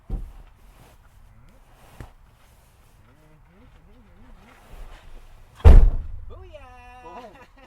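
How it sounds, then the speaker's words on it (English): A door pushed shut lands as one loud, close thud about two-thirds of the way in. Quieter knocks come before it, and a voice talks through the stretches around it. "Start to close the door and I'll back away real fast"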